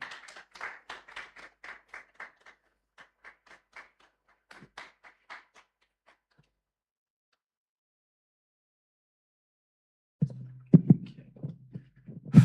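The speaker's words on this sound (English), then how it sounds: "So please put your hands together for Lucky Pastor as he comes to make a poetic performance for us today. Please put those hands, keep clapping." Sparse rhythmic clapping from an audience welcoming a poetry performer at a live-streamed event comes in short bursts, fades into silence, then louder handling noise and hum return at the end.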